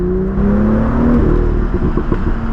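A stock BMW M2 (F87) engine idles low, then revs up in sport mode with a rising whine and throaty roar, loud and close, settling into a rumbling hold.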